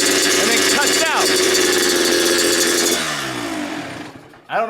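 A small engine in a street-legal super mini car build revs up sharply, climbs, then drops back toward idle, loud and close with a rough mechanical buzz.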